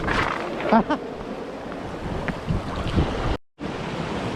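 Ocean swell surges and breaks against coastal rocks in a loud, washing roar mixed with gusting wind, a brief voice calls out early, and the sound cuts out abruptly near the end.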